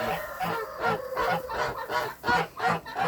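Geese squabbling while eggs are collected from their nests, loud close honking and agitated cackling in rapid overlapping bursts.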